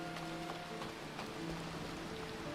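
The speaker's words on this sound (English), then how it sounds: "So rainy." Rain falling in Final Fantasy XIV, a soft, even hiss of drops on surfaces with faint scattered patters, quiet and steady under low background tones.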